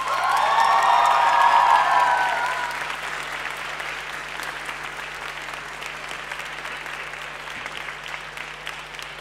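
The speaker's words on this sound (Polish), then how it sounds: "Jeszcze raz podziękujmy artystom brawami." Audience applause at a young talent showcase concert, a dense burst of clapping with a few cheers that peaks early, then thins into steady, softer clapping that carries on to the end.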